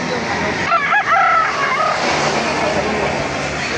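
A rooster crows at a chicken market in Laguna, its harmonic call rising and falling for about a second, fairly close, over steady crowd and traffic noise.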